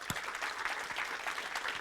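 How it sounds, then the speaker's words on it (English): Audience applause at a UK brand awards event, a dense wash of many hands clapping steadily for a short burst, moderately loud and close, with no voices over it. "I think they deserve a round of applause"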